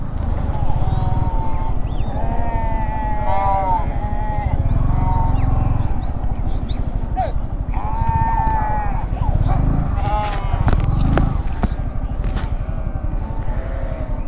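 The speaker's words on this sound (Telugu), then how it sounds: "ఇక్కడ లైవ్ స్టాక్ ఉంటుంది కదా, అంటే గొర్రెలు కానీ మేకలు కానీ" A flock of sheep and goats on the road between Srinagar and Kargil, Ladakh, bleating repeatedly, many overlapping calls near and far, over a steady low rumble of traffic or engines.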